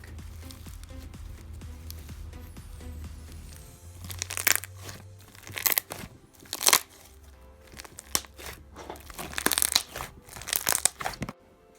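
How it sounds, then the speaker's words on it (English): Crunchy lemon-lime scented floam slime squeezed and worked by hand, giving dense bursts of crackling, crunching and popping beads, close and intimate, loudest in repeated squeezes toward the end. "now it's time for a crunchy Floam, and it smells like a Sprite, like lemons and limes, and it's so crunchy and thick"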